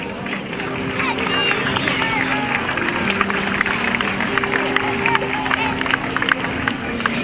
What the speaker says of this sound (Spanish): ¡Ese fuerte aplauso!